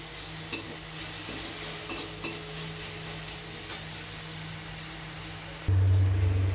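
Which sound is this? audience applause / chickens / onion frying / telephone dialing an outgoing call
onion frying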